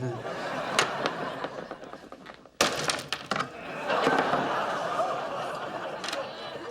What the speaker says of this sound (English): Why are you smashing a flash frozen banana?